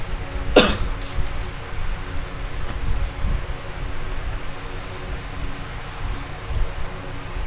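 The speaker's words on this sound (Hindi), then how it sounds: "खांसी।" One short sharp cough from a teacher during a maths class, heard close at the start over steady room hiss and faint rustling, with no talk around it.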